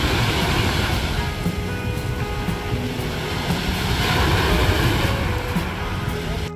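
Sea waves on the Croatian coast make a steady, loud broadband wash that rolls on without a break, with no voices over it.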